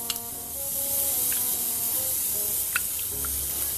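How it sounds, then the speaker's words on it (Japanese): A fizzy lemon sour-style non-alcoholic drink pours into a glass, a steady close carbonated hiss and fizz running throughout with a few small crackling pops. "シュワシュワとこう注いで"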